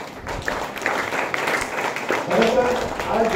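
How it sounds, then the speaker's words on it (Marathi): An audience at a school reading-day event claps for a guest speaker, a broad continuous round of applause with voices mixed in beneath it. "सरांसाठी आपण जोरदार टाळ्या वाजवूया."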